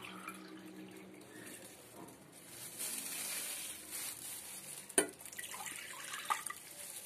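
One cup of water is poured into a pot for an Ayurvedic turmeric immune drink, a soft splashing pour building midway, with a sharp clink near the end and quiet trickles after, close and alone.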